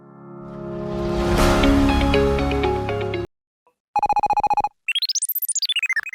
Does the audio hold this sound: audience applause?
no